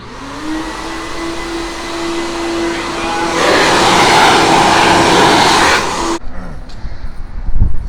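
Loud, steady broadband roar of a car wash air dryer blowing hard for about six seconds, swelling louder midway before cutting off abruptly into quieter background rumble.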